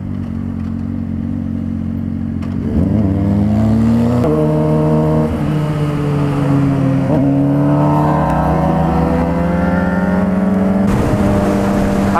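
A car engine revs loudly and erratically nearby from a moving motorcycle in traffic, its pitch climbing and dropping in repeated surges over steady wind and road noise.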